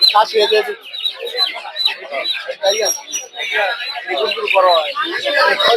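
Chickens cluck and squawk continuously at a busy winter poultry and bird market in Gausia Golakandail, close and fairly loud, with crowd voices mixed in.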